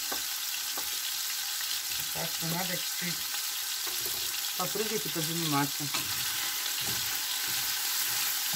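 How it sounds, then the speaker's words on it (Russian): Steady sizzling of meat frying in a pan fills the clip, with someone talking briefly over the crackle partway through. "Поставила жарить мясо"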